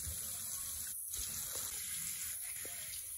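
Tap water runs steadily into a sink while a child's face is rinsed at home, a continuous close gush with a brief break partway through and no talking.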